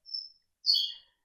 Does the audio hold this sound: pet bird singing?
yes